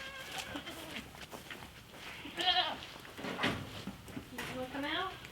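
Goats, including a baby, bleating as they are let out of their pen at dusk near a fence, several wavering cries overlapping at moderate distance while people talk nearby.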